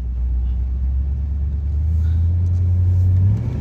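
A 1979 Corvette's engine rumbles steadily while driving in a parking lot, a deep continuous low drone with a slight rise in pitch toward the end, heard alone with no talk.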